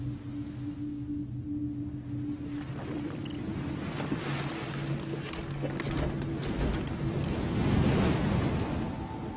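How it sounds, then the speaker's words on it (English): A boat rocks on choppy open sea off the Chinese coast, with steady surf and wind-buffeted water sloshing around the hull, swelling louder toward the end, with no voices. "The waves are picking up."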